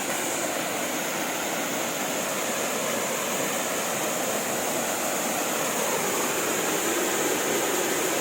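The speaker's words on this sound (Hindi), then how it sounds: "आप आवाज़ से पहले इस झरना की आवाज़ सुनिए और कितना मनमोहक है देखिए" Waterfall at Jalpari Point in Mainpat, a steady broadband roar of falling water that stays loud and even throughout, with no voices.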